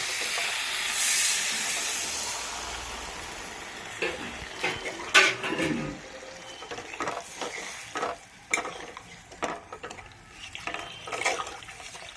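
Water is poured into a hot pan of frying spices for egg kofta curry, bursting into a loud hiss, followed by bubbling and scraping stirs.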